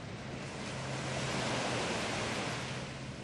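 Steady ocean surf washes onto Patong beach in Thailand, a continuous broadband roar of breaking waves heard close and loud with no voices.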